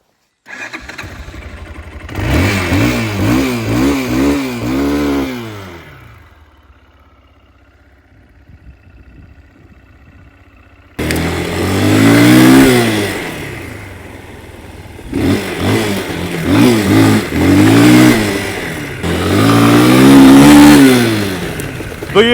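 A Spark motorcycle engine starts and revs loudly and close by in rising and falling bursts, goes quiet to a faint idle for several seconds, then roars back through more strong revs.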